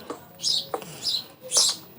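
Bird chirps ring out in quick bursts, some nearer, some farther, over a quiet outdoor background with faint scraping of stones nearby.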